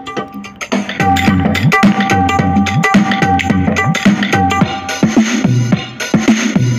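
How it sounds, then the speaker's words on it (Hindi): The built-in rhythm of a Yamaha PSS-F30 portable keyboard plays loud and close, a steady looping electronic drum pattern with a repeating bass figure and backing notes, and no voices over it. "ये हमारा रिदम स्टार्ट हो गया फ्रेंड्स। आप सुन सकते हैं इसमें रिदम की आवाज़ आ रही है"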